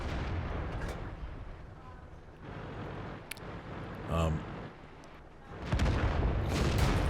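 Tank guns boom in a close 4-on-4 World of Tanks battle, with a few muffled heavy shots and rumbling explosions over engine noise, faint and intermittent.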